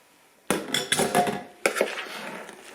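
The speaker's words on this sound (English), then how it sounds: "adding the vegetables to the bread, and we're gonna stir it up" Vegetables stirred into bread stuffing in a bowl for Thanksgiving, with a spoon scraping and clattering against the bowl in a few quick knocks and a second burst of stirring, fairly close.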